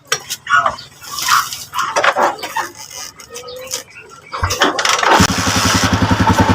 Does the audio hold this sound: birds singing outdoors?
no